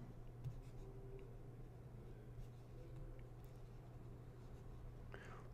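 Pen writing on paper, a faint steady scratching of strokes running through the whole stretch over a low background hum, ending with a brief brighter scrape.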